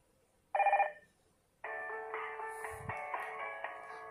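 Preset Hikvision ringtones play on an Android intercom tablet: a short electronic chime sounds alone, then after a pause a steady, sustained melodic ringtone plays on continuously, clear and close.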